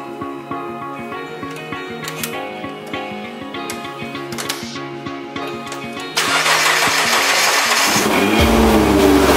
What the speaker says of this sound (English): I'm gonna jump start the car real quick